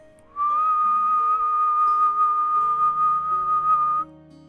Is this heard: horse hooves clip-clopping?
no